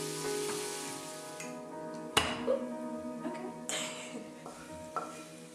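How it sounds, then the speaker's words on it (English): Pear chunks with cinnamon cooking in melted butter in a skillet, a soft sizzle with occasional sharp clinks and scrapes of a utensil stirring against the pan, close and fairly quiet, no voices. "I added some pear chunks, some cinnamon, and I let everything cook for about 5 minutes"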